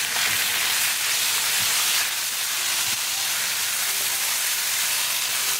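Marinated pork tossed into a hot tadka in a pan for achari pork, giving a steady broadband sizzle and hiss with a few faint scraping knocks, close and continuous with no talking.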